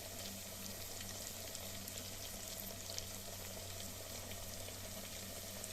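Fish frying in bubbling hot oil, an even, continuous sizzle and fine crackle held close throughout, with no talking over it.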